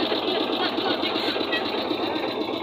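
A trawler boat engine runs steadily on a wide river, a loud, continuous mechanical drone with a fast, even chugging rhythm throughout, close by and unbroken.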